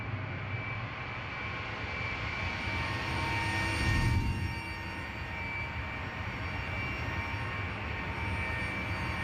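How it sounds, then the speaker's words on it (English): An Airbus A320 jet engine in a flight simulator game drones as a steady whining roar, with a brief swell of low rumble midway, constant and moderately loud with no talk. "You can hear the jet engine going."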